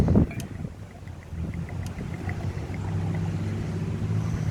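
Wind buffets the microphone in a low, continuous rumble, with a sharp knock at the start and a faint click midway.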